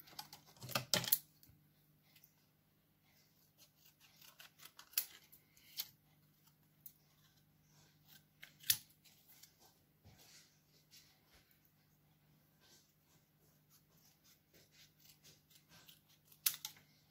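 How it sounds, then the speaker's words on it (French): Scissors cutting out a paper card for a succulent-themed craft, producing faint, scattered snips and paper rustles in a quiet room, with a few sharper clicks spaced irregularly. "Je vais découper."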